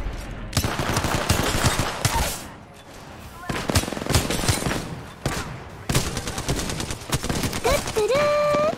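Gunfire in a sniper shooter video game comes in loud bursts of rapid shots separated by short lulls, with sharp single cracks, some game effects and a rising electronic tone at the end.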